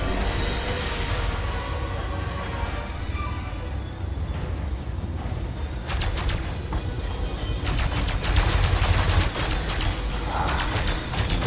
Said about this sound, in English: Just as I start reeling off a few blasts from the cannon.